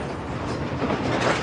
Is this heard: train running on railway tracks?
yes